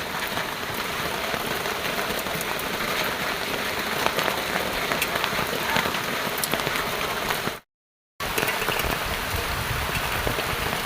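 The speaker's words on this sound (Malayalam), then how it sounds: "നല്ല മഴ കേട്ടോ." Heavy rain pours in a hilly area, a steady dense roar of drops on surfaces that cuts out briefly near the end, then resumes unchanged, with no talking.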